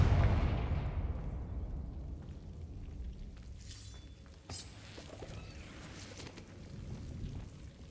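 Confringo explosive spell in the Hogwarts Legacy video game, a loud fiery blast at the start that rumbles and decays, followed by crackling debris and scattered smaller impacts.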